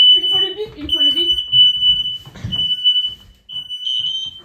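A smoke alarm goes off after a kitchen fire, giving a steady, piercing high-pitched tone that holds almost without a break while people talk over it in French.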